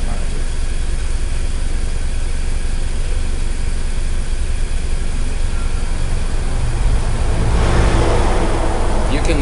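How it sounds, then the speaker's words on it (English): A BMW F83 engine runs with a steady, loud rumble throughout, turning slightly brighter and rougher toward the end, and no voices come through over it. "You can make the engine start."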